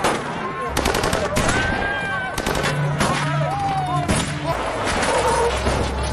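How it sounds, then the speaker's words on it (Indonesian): Machine-gun bursts and gunshots crack through a shootout from the 2008 film The Shepherd, dense rapid fire with louder single reports mixed in, alongside film music. "sehingga aksi baku tembak pun tak terelakkan lagi"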